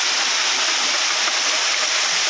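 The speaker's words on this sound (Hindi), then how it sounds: "देखिए पानी गिर रहा है" A village waterfall in Mirzapur roars in a steady, dense hiss of falling water, loud and close with no letup and no voices.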